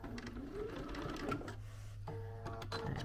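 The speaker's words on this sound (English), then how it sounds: "Let's hit it with a back stitch." A sewing machine runs a back stitch through fabric oven mitts, its steady mechanical whir close and continuous, with a brief pause and the needle's rhythmic pulsing resuming.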